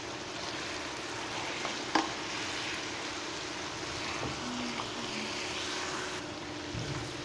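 Spices such as cumin, cinnamon, garam masala and dried coriander powder being stirred into mutton stew in a pan, a soft, steady scraping and low sizzle with a brief clink near the start, quiet and alone.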